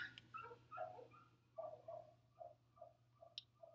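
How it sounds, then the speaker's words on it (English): Dogs outdoors whimper and yip in a flurry of short, high, uneven cries, fairly faint and distant over a steady low hum. "I just heard some dogs freak out"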